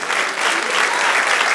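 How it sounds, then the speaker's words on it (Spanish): A church congregation claps steadily with dense, sustained applause filling the space and no pauses. "Dale un aplauso al Señor."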